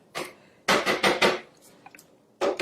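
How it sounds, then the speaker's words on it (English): A spatula scraping down the inside of a food processor bowl, making several loud, quick scraping and knocking strokes in short bursts with brief pauses between them, close up and with no voices. "We're going to stop and just scrape down the bowl"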